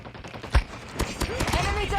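Video game gunfire: scattered rapid shots and pops, fairly close, mixed with a player talking over the action.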